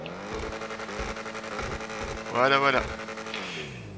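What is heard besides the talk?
Subaru BRZ engine revving in video game GTA V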